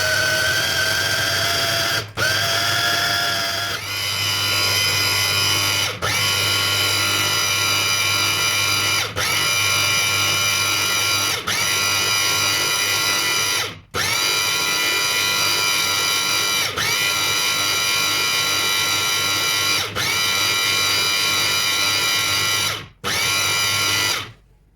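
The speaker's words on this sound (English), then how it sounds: "And now we need to use this meat processor." An electric meat processor runs with a steady, loud mechanical whir, and the motor stops briefly several times before restarting.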